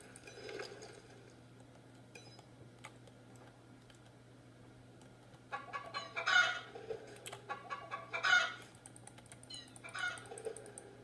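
Chickens cluck inside a video game during a let's-play session, with short bursts of clucking and squawks around the middle and end over a low steady hum and faint clicking, and no one talking.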